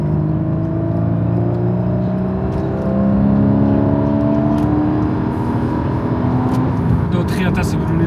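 Porsche Cayman engine pulling hard from inside the cabin, a rising whine and drone with climbing engine tones as revs build steadily, loud and continuous.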